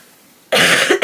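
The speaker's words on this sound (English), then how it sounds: "so I'm gonna cough" A single sharp, loud cough bursts out close to the microphone after a moment of near silence, with a short second catch at the end, at home during a cross-stitch and crochet chat.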